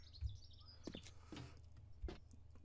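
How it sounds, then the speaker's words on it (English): Faint bird chirps and short tweets sound in the video game 7 Days To Die, scattered over a low, quiet ambient hum. "There's a bird."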